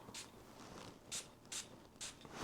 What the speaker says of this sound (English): I'm going to spray this to see just the contrast